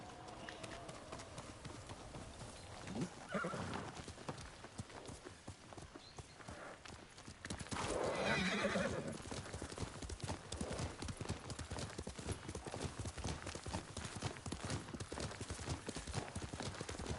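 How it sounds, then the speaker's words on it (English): Horse hooves clip-clop at a steady walking pace in the Ghost of Tsushima video game, quiet and continuous, with a brief louder swell midway that may be a snort or whinny. "Yuriko's horse. She can't be far."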